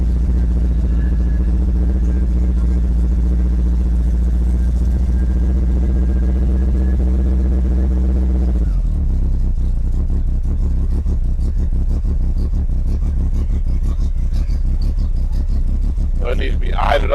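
A Chevrolet El Camino G-body engine idles with a steady low rumble that shifts abruptly about halfway as it is put into drive, settling into a rougher, pulsing idle, with people talking nearby throughout.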